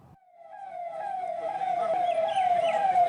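An ambulance siren wails in Uttarakhand, India, its tone gliding and swelling as it grows steadily louder, as if drawing nearer amid faint traffic noise.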